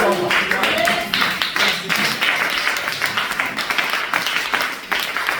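Congregation at a church service cheering and applauding for Jesus, a steady wash of dense clapping with bursts of voices, loud and continuous throughout.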